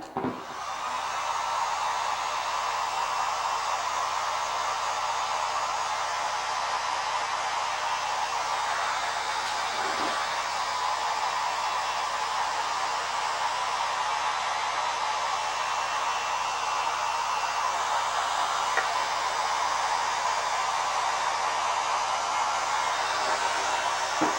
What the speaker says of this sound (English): I'm going to use my handy dandy Binford 9000 blow dryer here, so watch your ears